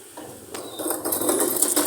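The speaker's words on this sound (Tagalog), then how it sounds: "Ayan o, nagtatahi ng pantalon." Sewing machine stitching trousers at a shoe and bag repair shop in a public market, a rapid mechanical rattling that starts quietly and grows louder and steadier, close by.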